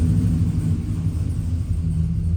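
A rebuilt car engine idles with a steady, low rumble, close and constant, without voices.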